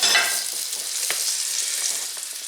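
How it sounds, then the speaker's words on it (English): Chicken browns in a hot frying pan, a dense crackling hiss with occasional sharper pops, close and continuous. "while the chicken is browning"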